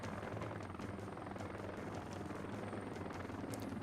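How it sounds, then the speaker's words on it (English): A Cobra attack helicopter in a video game, its rotor chop and engine whine droning steadily at moderate distance, continuous and unbroken, with no voices. "In a Cobra attack helicopter."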